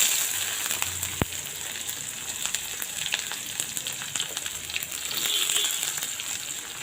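Sliced onions frying in hot oil with bay leaf and cumin seeds in a pan: a steady, close sizzle and hiss with one sharp pop early on and light crackles throughout.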